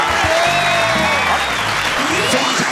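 Audience applause fills a TV variety show studio, steady and loud clapping with some crowd cheering, continuous throughout without a break.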